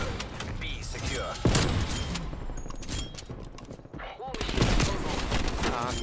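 Gunfire in Call of Duty crackles through the match, with sharp, loud shots standing out around a couple of moments amid background game noise and some voice activity.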